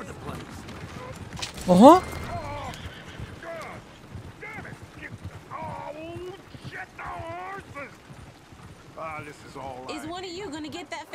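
Horse hooves clip-clopping in the Western video game Red Dead Redemption 2, a light irregular clatter under game voices and ambience, with a brief loud exclamation near the start.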